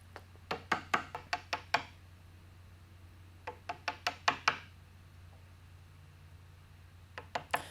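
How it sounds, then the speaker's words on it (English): Chisel squaring off hinge pockets cut into a wooden door, heard as quick bursts of sharp knocking taps in rapid clusters of six or seven strikes, close and crisp, separated by short pauses. "I go back and square them off because these are square hinges, and it's real quick work with a chisel."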